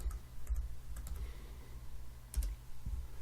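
Keys tapped on a computer keyboard while entering a zip code into CRM software, a sparse, irregular series of soft clicks over a low steady hum.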